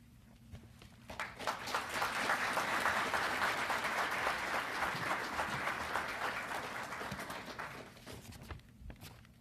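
An audience at a State Department anti-corruption champions award ceremony breaks into sustained applause. Many hands clap steadily, building quickly, holding for several seconds, then tapering off, heard from across a large room.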